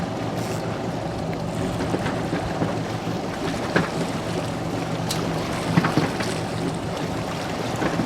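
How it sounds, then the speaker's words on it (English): An offshore fishing boat's starboard engine is put in gear and rumbles steadily at close range while trolling, a constant low drone with occasional knocks and splashes, no talking. "So I just put my starboard engine in gear."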